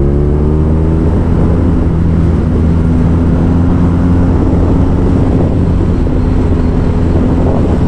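A BMW R nineT motorcycle engine under power while riding, a loud steady drone with strong low rumble and wind rush throughout, continuous and close.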